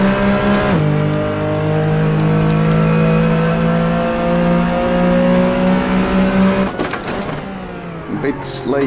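Porsche 911 Carrera RSR 3.0 engine in Assetto Corsa, a steady loud drone that drops in pitch, then climbs again as the throttle opens, with a gear change and rising revs near the end.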